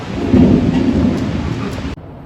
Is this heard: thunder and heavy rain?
yes